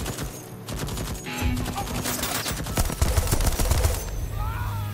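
An automated turret firing in Deathloop, a rapid, sustained burst of gunfire that sounds loud and near and runs almost unbroken, with other game noise mixed in.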